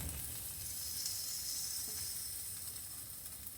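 Sweet potato fries and onion brown in a pan with a soft, continuous sizzle and hiss, close but fairly faint, with no talking.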